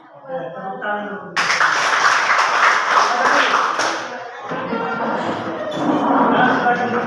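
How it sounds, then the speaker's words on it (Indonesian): Students in a classroom clap their hands in a loud, dense burst lasting a few seconds, with children's voices talking before and after it. "Oke, tepuk tangan dulu."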